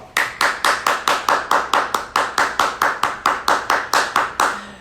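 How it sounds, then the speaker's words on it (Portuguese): Rhythmic clapping at a brisk, even beat, sharp close claps repeating steadily about four times a second with no other sound between them. "Vamos aplaudir, ó."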